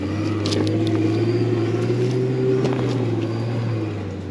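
A 4x4 vehicle crawling up a hard off-road track in the Victorian High Country, its engine giving a loud steady droning hum with a slowly shifting pitch, plus occasional knocks and rattles from the cabin.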